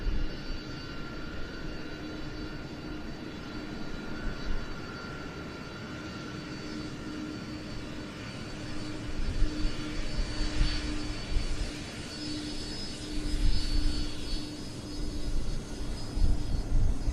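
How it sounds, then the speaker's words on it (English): A KC-135 Stratotanker re-engined with CFM56 turbofans taxis at an airshow, its steady jet whine and broad rumble holding continuously, swelling slightly at times, with no voices. "the KC-135 diverting onto the northerly taxiway"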